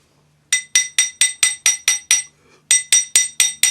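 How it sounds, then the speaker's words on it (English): A planishing or jeweler's hammer gently taps a fine silver bezel around a stone, making crisp metallic clinks at a steady rhythm: a run of eight, a short pause, then six more, close and clear. "we can use a planishing hammer or a jeweler's hammer and just gently, and gently is the operative word"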